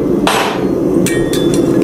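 Metal hammering on a horseshoe as nail holes are punched: one sharp ringing strike followed by three quicker, lighter taps, close and loud.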